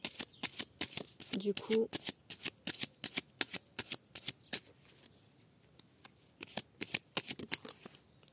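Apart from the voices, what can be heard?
shuffling oracle cards gently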